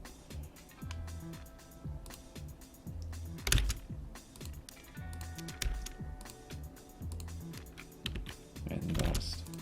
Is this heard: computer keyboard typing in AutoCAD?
yes